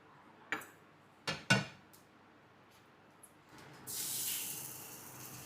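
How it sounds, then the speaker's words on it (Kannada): Cooking oil poured into a pan for frying fish: a few sharp clicks and knocks from the pan, then a steady hiss builds and holds near the end. "ಎಣ್ಣೆ ಹಾಕ್ತಾಯಿದ್ದೀನಿ."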